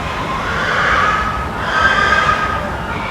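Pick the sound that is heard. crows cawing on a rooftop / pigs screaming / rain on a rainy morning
pigs screaming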